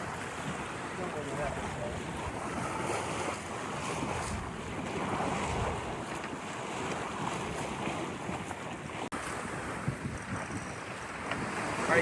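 Wind buffets the microphone while waves wash against a sailboat under way, a steady rushing blend with occasional knocks and some faint voices in the background.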